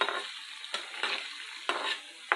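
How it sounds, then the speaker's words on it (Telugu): Potato pieces deep-fry in plenty of oil over a high flame, giving a steady bright sizzle broken by several sharp stirring clatters at irregular intervals. "హై ఫ్లేమ్ మీద ఎక్కువ ఆయిల్లో ఫ్రై అవుతున్నాయండి."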